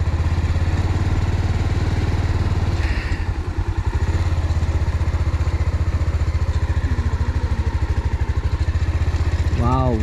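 A motorcycle engine chugs steadily as the bike rides a rough off-road track through deep forest, close and constant, with clattering bumps and someone talking over the engine.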